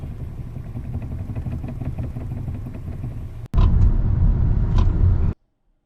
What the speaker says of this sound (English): this little green part of the damper breaks off over time because it's plastic, and it starts making these noises